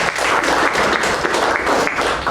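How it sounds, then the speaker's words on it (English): Audience applause fills the room at a Toastmasters meeting, a steady dense wash of many hands clapping close by, loud and unbroken throughout with no speech over it. "Give them a big round of applause."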